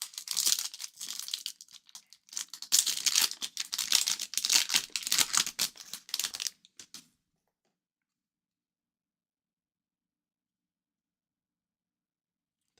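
A trading card pack wrapper is torn open and crinkled up close, several seconds of crackling foil tearing in bursts, then silence.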